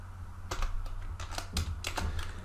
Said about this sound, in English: So I simply type here these tags,